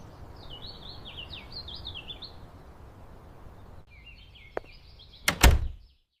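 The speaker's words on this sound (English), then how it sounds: "I open the front door." A front door is opened against a backdrop of chirping birdsong, ending in a sharp click followed by a louder thudding sweep near the close, then quiet.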